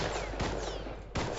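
Sniper rifle fire in the survival game Rust, two sharp cracks about three quarters of a second apart, loud and close, with no talk.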